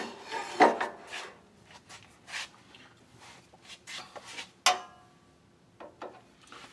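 Irregular rasping strokes of a file squaring off the end of a wooden shaving brush handle, some sharp and loud, others soft, with brief pauses between; no talking.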